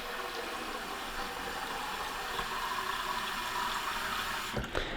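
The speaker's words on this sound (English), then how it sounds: "So we're going to be putting in some cold water." Steady rushing cold water pours continuously into a Bosch Tassimo coffee machine's water tank, close by, with a broad hiss and low rumble, ending with a brief clunk just before it cuts off.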